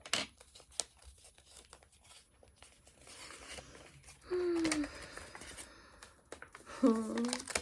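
A perfume sample package is torn open with a sharp ripping tear and papery crinkling, plus bursts of handling noise, close to the listener and moderately loud.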